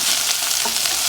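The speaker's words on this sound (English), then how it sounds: "I have some oil in here getting hot, and then I'm just gonna add my rice to it that I already washed" Washed rice frying on high heat in hot oil in a pan, giving a loud, steady, close sizzle that runs without a break and with no talking.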